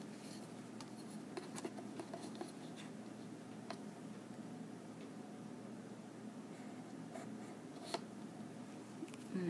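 Pencil drawing lines on paper for a perspective sketch gives soft scratching and rubbing strokes, close and faint, with a few sharper ticks scattered through a quiet background and no talking.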